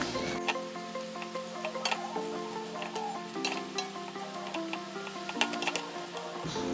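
Steady clinking and scraping of a spoon stirring softened, juicy tomatoes in a pan, with a light sizzle underneath, close and continuous without talk.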